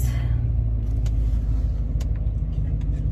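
A car driving on the road makes a steady, loud low rumble heard from inside the cabin, continuous with faint higher road hiss and no voices.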